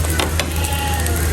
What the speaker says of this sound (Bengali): এই তো পরোটা ভেজে নিতেছি